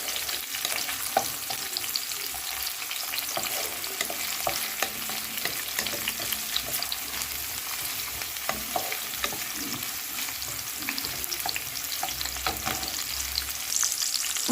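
Onions for a spicy chicken curry fry over a medium flame, giving a steady, dense sizzle with scattered crackles and small stirring scrapes throughout, close and continuous with no voices.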